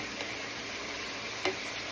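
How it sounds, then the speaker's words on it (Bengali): Meat fries in a pan as a paste of onion, garlic and green chili goes in, making a quiet, even sizzle with light stirring scrapes and one brief sharp clink. "মাংসটা একটু ভাজলাম, ভাজার পরে পেঁয়াজ, রসুন, মরিচটা একটু দিয়ে দিচ্ছি, পেস্টটা"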